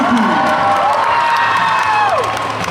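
A convention crowd at a cosplay contest cheers and whoops loudly for a cosplayer leaving the stage, a dense roar of shouting and applause with high whistling and sliding cheers rising above it.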